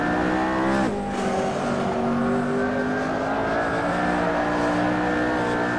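A McLaren Senna in Assetto Corsa at Spa revs hard, its engine note dropping sharply at a gear change and then climbing steadily again. The sound is loud and continuous, with a faint tire squeal underneath.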